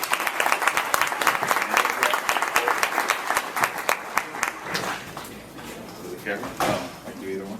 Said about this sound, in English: Everyone, nice round of applause.